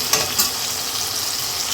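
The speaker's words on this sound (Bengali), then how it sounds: "আলুটাকে লাল লাল করে ভেজে নেব।" Potatoes frying in hot oil in a pan, a steady close hiss of sizzling with a couple of brief stirring clicks near the start, and no voices.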